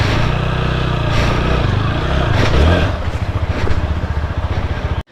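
A TVS Apache RTR 160 4V motorcycle engine runs while riding, a loud continuous rumble that swells then settles into a throbbing idle-like pulse before cutting off abruptly at the end.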